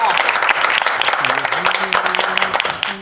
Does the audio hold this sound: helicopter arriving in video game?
no